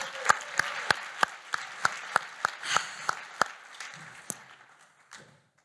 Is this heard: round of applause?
yes